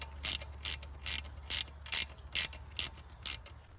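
A ratcheting torque wrench tightening transmission line connector fittings on a Chevy truck, eight evenly spaced sharp clicks about half a second apart, close and distinct over a faint low hum.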